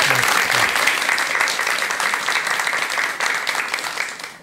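Audience at a Korean lecture on marital communication bursts into full applause for the lecturer, a dense wash of clapping that gradually fades out.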